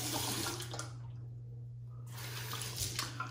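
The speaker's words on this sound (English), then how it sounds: "I'm gonna run the cold water for a bit here, just so it can actually get cold" Cold water running from a sink tap in a bathroom after a wet shave, a steady close splashing stream with a brief quieter dip midway before the flow resumes fully, with no voices.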